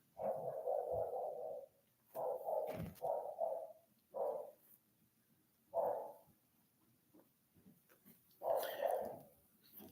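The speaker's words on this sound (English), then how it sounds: "See, I don't mind he barks, but he barks for 10 minutes." A dog barking indoors, a series of separate barks and yelps in irregular bursts, moderately close, with quiet gaps between them.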